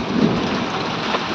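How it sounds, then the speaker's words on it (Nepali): Steady heavy rain pours down during a thunderstorm, a dense continuous hiss with a low rumbling undertone, loud and close with no voices. "पानी चाहिँ लगातार परिरहेछ अघिबाट"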